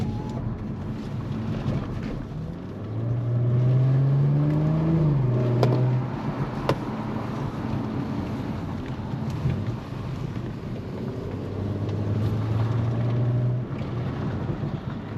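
Audi S4 with a 3.0 V6 in dynamic mode, its exhaust giving a low, steady drone under wind buffeting, rising in pitch during acceleration bursts and then settling back.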